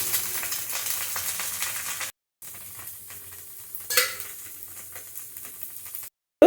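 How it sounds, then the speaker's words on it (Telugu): Rava dosa batter frying in oil on a hot pan, a close crackling sizzle that runs steadily, drops away for a moment, then resumes more softly with a brief scrape partway through. "ఇప్పుడు దీనిపైన దోశని ఈ విధంగా వేసుకోవాలి ఆయిల్ని ఈ రకంగా స్ప్రెడ్ చేసుకోవాలి"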